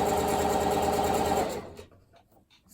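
A sewing machine stitches fabric in a fast, even mechanical whir for about a second and a half, then stops, leaving only faint handling sounds.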